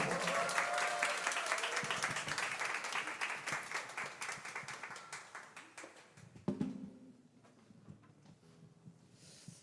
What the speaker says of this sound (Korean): 나오실 때 큰 박수와 환호 부탁드리도록 하겠습니다.